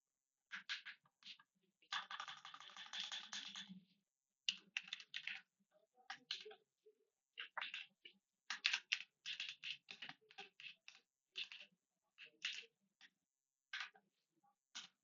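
Python code being typed on a computer keyboard: quiet, close key clicks in irregular short bursts and a longer rapid run, separated by brief silences, with no talking.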